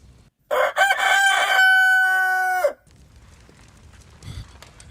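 A rooster crows loudly and close in an indoor room, one long call that lasts about two seconds and ends abruptly, followed by faint clucking and low background noise.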